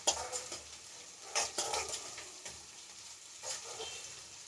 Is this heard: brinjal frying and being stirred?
yes